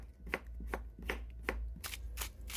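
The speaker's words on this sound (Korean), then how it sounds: "오이를 얇게 채 썰어줘요" Knife julienning cucumber into thin strips on a cutting board, a run of crisp, evenly spaced chops about every third of a second, speeding into quicker strokes near the end, close and clear with no talk.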